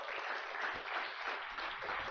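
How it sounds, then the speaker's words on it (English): An event audience gives a steady round of applause for two organisers at a 2017 innovation gathering, dense continuous clapping from a crowd, fairly even throughout. "let's give them a round of applause for this day then"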